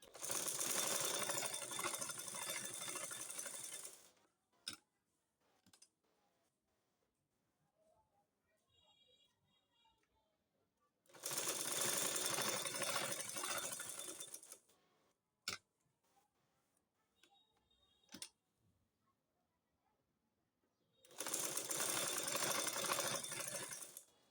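A sewing machine stitches around the neckline of a kuchi burqa in three loud running bursts, separated by quiet pauses with faint handling clicks.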